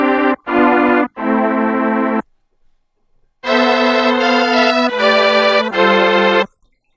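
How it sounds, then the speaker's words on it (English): A Plogue Chipsynth SFC preset plays SNES-style synth tones with echo, first as three short bright notes, then after a pause a longer phrase of four sustained notes, with no other sound between. "And now you hear that classic SNES sound right there."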